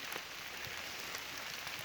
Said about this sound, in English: We're about to go home and it starts to rain.